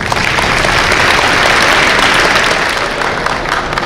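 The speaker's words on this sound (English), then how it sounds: "give yourselves a round of applause" Crowd applause at a peace march rally, dense steady clapping from many people, loud and continuous for a few seconds with no talk over it.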